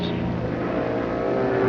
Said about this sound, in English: The Foyt Ruby Ford takes advantage and moves into 2nd place as the daylight fades.